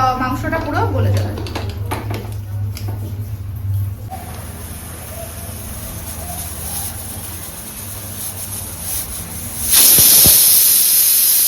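A pressure cooker with mutton inside vents a sudden loud steam whistle near the end, a sharp hissing burst after a stretch of quieter cooking sounds with people talking nearby.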